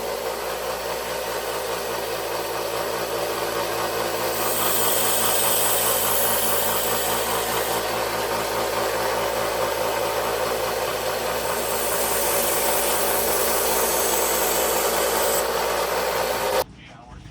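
A vintage folding hunter knife is sanded with 400 grit, giving a long, steady machine-like whirr with rubbing texture that swells and eases in waves before cutting off abruptly near the end.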